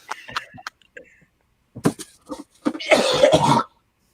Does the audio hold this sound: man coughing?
yes